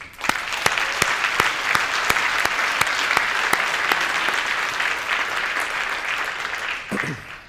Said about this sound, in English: So I'd ask you to join me in a round of applause for Neil.